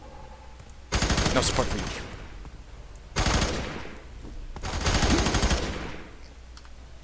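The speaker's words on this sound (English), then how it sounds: "So much shooting." Automatic gunfire in the video game F.E.A.R. 3, three long rapid bursts of loud shooting with short gaps between them, a voice briefly speaking over it.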